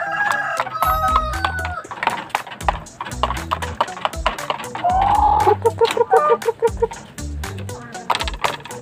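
Shamo-breed chickens in a farm pen, with a rooster crowing loudly nearby and repeated clucks and squawks around it, plus faint scattered background sounds.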